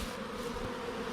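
Bees crowding the back of a hive in a bee yard make a dense, continuous buzzing, close and even in level.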